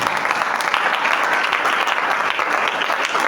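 Church congregation clapping loudly at a sermon, a dense, sustained round of applause from many hands that continues evenly without a break.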